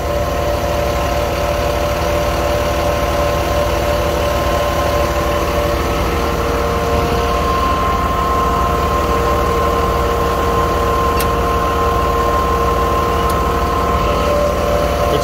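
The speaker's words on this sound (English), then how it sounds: "turn the pump back on." The pump on a 3,000-gallon jet fuel truck runs with a steady, loud mechanical drone and engine hum, unchanging for the whole stretch, with no voices over it.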